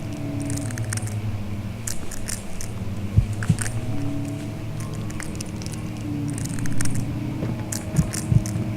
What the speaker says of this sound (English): it's just that crunching noise that's bothering me. It sounds like chewing, like something is chewing on my head.